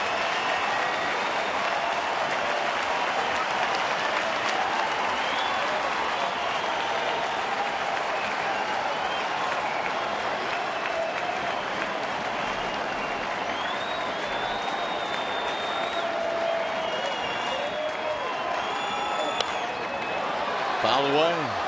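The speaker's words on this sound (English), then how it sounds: "Now the crowd coming to its feet." Detroit baseball stadium crowd rising and applauding with one out left, a continuous roar of clapping and cheering with whistles, while a broadcaster talks over it.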